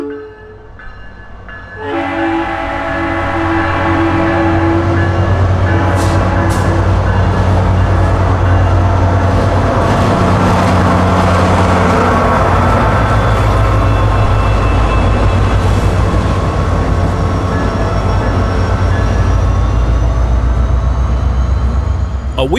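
Train on the Florida A Line rolling out south, a loud, close, sustained rumble of wheels and engine with horn-like tones over it, starting after a quieter opening.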